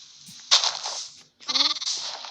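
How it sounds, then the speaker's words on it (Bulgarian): A Minecraft sheep bleats twice, close and clear, with a short gap of silence between the two nasal cries. "Тъпата овца ми избяга!"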